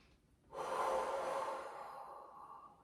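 Deep breathing during a workout warm-up with arm circles: one long, loud, airy breath begins about half a second in and fades slowly through the rest, close to the mic, with no talking.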